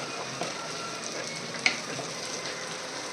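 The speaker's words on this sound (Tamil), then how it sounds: "குட்டி வெங்காயத்தை போட்டு நல்லா ஃப்ரை பண்ணிகிட்ருக்கேன்" Small onions and dried red chillies sizzle in oil in a pan, a steady close crackle with a couple of faint clinks from stirring and no voices.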